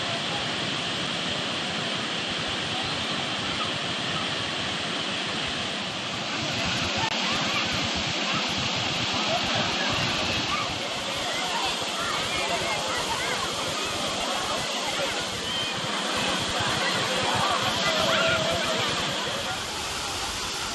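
Water rushes steadily at Kumbakkarai waterfall near Periyakulam, swollen after flooding, a continuous broadband roar that fills the whole stretch at moderate level without pauses.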